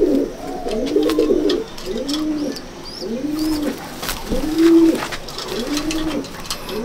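Pigeons in a loft coo close by in repeated soft, rolling phrases, several calls in a steady rhythm with faint background chirps.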